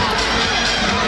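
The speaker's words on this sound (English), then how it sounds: "And these fans are loudly booing at that decision" Ice hockey fans at a Dayton Demonz home game against the Danbury Whalers voicing disapproval of a referee's call, a loud sustained crowd roar that fills the arena with no break.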